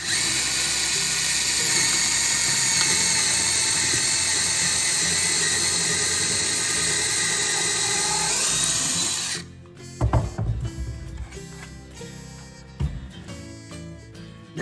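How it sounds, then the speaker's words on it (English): A loud, steady power drill whines continuously for about nine seconds drilling a hole into drywall, then cuts off, leaving scattered clicks and light handling noises. "we are gonna go ahead and drill a hole right over here"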